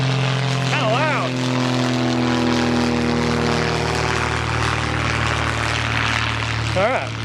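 A propeller airplane drones steadily and loudly overhead, a low continuous hum holding throughout, while someone talks briefly over it.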